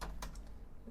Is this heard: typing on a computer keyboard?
yes